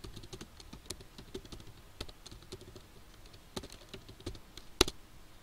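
Typing a command on a computer keyboard, a quick irregular patter of light key clicks ending in one sharper press, close and quiet with no talking.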